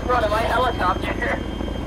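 A military helicopter in Arma 3 drones loudly and steadily nearby, its rotor and engine roar filling the whole moment without pause.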